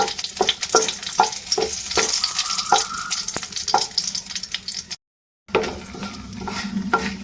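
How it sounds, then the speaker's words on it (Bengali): Dried red chillies fry in oil in a wok with a steady sizzle, broken by scraping stirs and light clinks of a utensil on the pan, then a brief silent gap before the frying resumes. "কড়াইয়ের মধ্যে ওই তেলেই দিয়ে দিচ্ছি প্রথমে শুকনো লঙ্কা। লঙ্কাটা ভেজে নিচ্ছি।"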